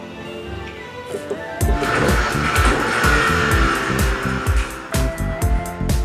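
Race car engine from a sim racing game such as iRacing or Assetto Corsa, heard through a home sim rig: a loud, steady engine roar climbing and dropping through gear changes with tire squeal, no talk.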